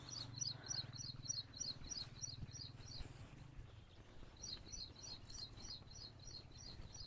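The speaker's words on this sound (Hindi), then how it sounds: "सुबह सुबह चिड़ियों की शोर जो है ना बहुत ही अच्छा लगता है।" Small birds chirping in the morning, a bright repeated trilling call in quick runs that pause and then return, fairly faint against a low background hum.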